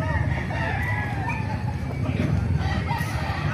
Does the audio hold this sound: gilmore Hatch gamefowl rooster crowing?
yes